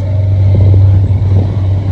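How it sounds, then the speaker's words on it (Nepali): A motorbike ridden along a wet mountain road toward a Himalayan cave gives a loud, steady low engine drone, close and continuous, with slight fluctuations. "हाम्रो दाइले पुरै बाइक गुडाइरहनु भएको छ गाइज।"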